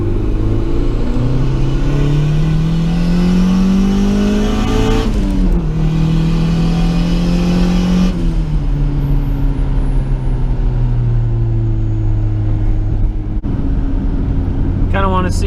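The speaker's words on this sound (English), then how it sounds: "Just kind of floor it, watch the gauge." Turbocharged Honda CR-V accelerating at full throttle in fourth gear, a loud droning engine rising in pitch with brief drops at shifts, heard from inside the cabin with a voice speaking over it.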